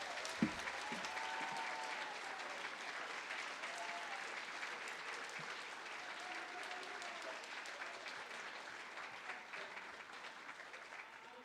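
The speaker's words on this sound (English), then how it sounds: "please give a nice round of applause" Steady applause from the audience at a primary school second-grade musical fills the room, a dense even wash of clapping sustained throughout with a faint murmur of voices beneath.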